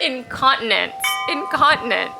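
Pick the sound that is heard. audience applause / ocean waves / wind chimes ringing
wind chimes ringing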